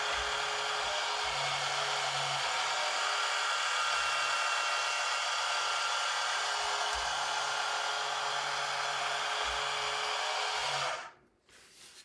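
The lift mechanism motor of a Huina 1582 RC dump truck runs with a steady, close electric whir for about eleven seconds, then cuts off abruptly.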